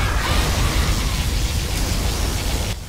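A particle cannon blasts in the video game Command and Conquer Generals Zero Hour, a loud, sustained roaring burst of broadband noise and rumble that cuts off sharply near the end.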